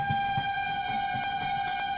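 A WAP7 electric locomotive on the 12933 Karnavati Superfast Express sounds a steady, sustained horn for the whole stretch, loud and close, with a faint rhythmic rumble underneath.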